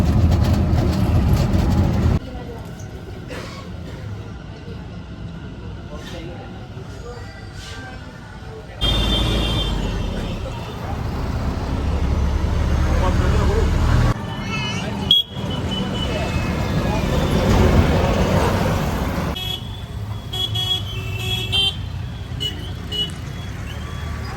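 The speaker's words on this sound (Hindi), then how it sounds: "तो बस ऑटो करके जा रहे हैं" An auto rickshaw rides through traffic, its engine droning and rattling with horns and beeps around it, shifting in loudness as the ride goes on, with occasional voices.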